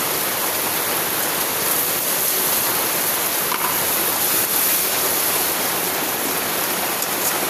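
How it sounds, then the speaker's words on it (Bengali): A little water is poured into cooked spices in a pan, making a constant, dense rushing hiss that holds steady for several seconds with no voices. "এখন এর ভিতরে সামান্য পানি দিয়ে দিব।"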